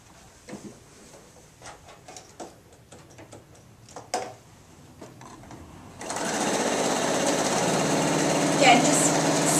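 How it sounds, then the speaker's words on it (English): A sewing machine runs a steady, loud line of stitching along the top edge of an apron, starting after a stretch of quieter handling noises and continuing unbroken to the end. "And just machine along the top."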